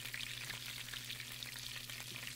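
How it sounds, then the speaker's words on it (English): Butter melting and sizzling in a pan for a chicken glaze, a faint, even crackle of fine pops throughout, quiet and close with no talk. "I'm going to get this butter going a little bit faster"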